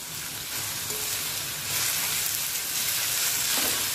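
Chopped onion for a spicy Vidarbha-style onion chutney frying in oil, a steady dense sizzle close up and alone, without a pause.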